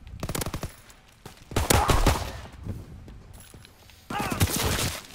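Rapid bursts of gunfire from the video game Call of Duty WW2 crackle loudly in clusters, with someone talking between and over the shots.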